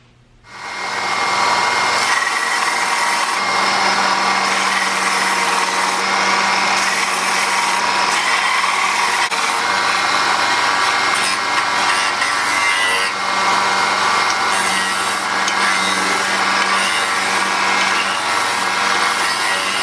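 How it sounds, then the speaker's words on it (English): Power sander working a wood slab box, a loud, steady high-pitched whine with rough grinding texture that starts abruptly and runs continuously for about eighteen seconds, close to the listener. "Looks like it's time to do a little sanding"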